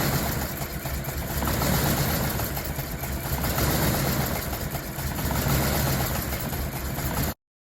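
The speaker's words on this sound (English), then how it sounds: "It runs so rough it won't even idle by itself." The engine of a 2010 Jeep Commander idles roughly and unevenly, a steady, close, rumbling drone with an irregular pulse. It runs for about seven seconds and then cuts off abruptly, and no voices are heard.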